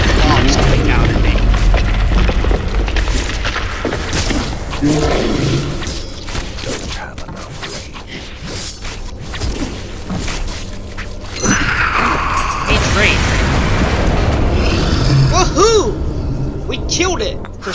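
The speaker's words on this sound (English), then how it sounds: "Dodge the bombs coming down at me." Heavy booming blasts from bombs dropping during a boss fight in the Van Helsing action game, loud and repeated under mechanical clatter and game music, with someone talking over them.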